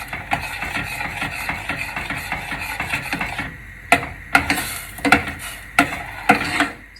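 Onions go into a pan for a Gratin Dauphinois sauce and are stirred, first as a steady clattering scrape, then as sharp, separate knocks of a utensil against the pan.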